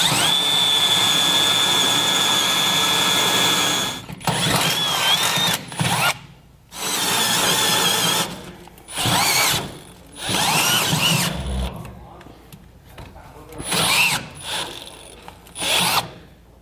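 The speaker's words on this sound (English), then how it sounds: "when we come back to drill out our bigger hole" A power drill whines through the metal of a 1996 Ford F-series truck frame in several bursts, starting with one long run and then stopping and restarting in shorter stretches, close and loud.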